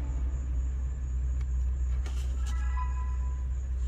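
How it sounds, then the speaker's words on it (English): A car engine idles with a steady low rumble, read by an OBD2 Bluetooth scanner for engine RPM, joined by a faint rising whine and a few light clicks partway through. "Let's start the car."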